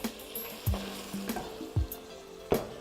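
Fresh tomatoes and tomato paste are stirred into meat sizzling in a pot, with a steady close sizzle and several distinct scraping knocks from the spoon at irregular intervals, and no talking.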